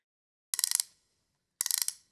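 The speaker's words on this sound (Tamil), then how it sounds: "இந்த ரேட்டில் சவுண்ட்ஸ் எல்லாம் அதோட மிக்ஸ் பண்ணியிருந்தேன்." Two quick bursts of a children's toy rattle, each a tight run of six or seven bright plastic clicks lasting about a quarter second, separated by a second of silence and heard alone and close.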